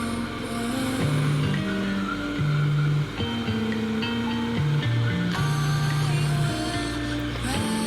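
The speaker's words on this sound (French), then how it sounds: "il y a des rallyes automobiles dans le secteur, là, toutes ces voitures se rassemblent au point de départ" Rally cars pass on a mountain road, engines revving loudly and shifting pitch as they drive by one after another, with tire noise and no talking.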